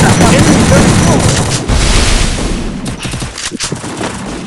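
Dense gunfire in a shooting video game, rapid overlapping loud bursts and booms in a continuous barrage that thins into separate sharp shots toward the end.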